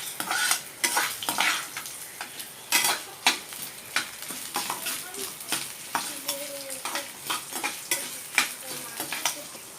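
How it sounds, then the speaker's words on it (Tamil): Coriander seeds and garlic cloves dry-roasting in a pan, stirred with a utensil: repeated scraping and rattling strokes in an uneven rhythm over a faint crackle, close and moderately loud. "இப்போ மல்லி நல்லா வறுத்துச்சு"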